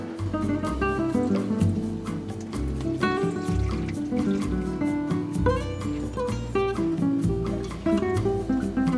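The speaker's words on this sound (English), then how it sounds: "Filling that up just about with the whole bottle" Water pours steadily from a bottle into a container, a continuous gurgling stream with small splashes and rising tone as it fills.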